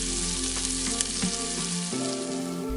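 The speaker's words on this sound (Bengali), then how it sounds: "এবার চিংড়িগুলো মশলার সাথে 2-1 মিনিটের জন্য কষিয়ে" Shrimp sizzle and fry with spices in a hot pan for a Bengali khichuri, a loud, steady crackle close up with a faint stir of the spoon partway through.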